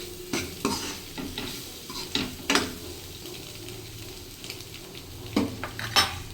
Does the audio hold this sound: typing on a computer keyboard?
no